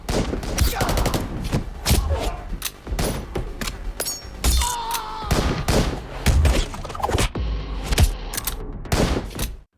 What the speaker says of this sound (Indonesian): hingga harus bertahan ditembaki oleh para pengawal Rofak